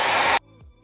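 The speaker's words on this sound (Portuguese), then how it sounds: "Mas a princípio ainda vamos fazer mesmo estica e bata seca com o secador." A handheld hair dryer blowing on hair being stretched straight with a brush, a loud steady rushing whoosh that cuts off abruptly, leaving near silence.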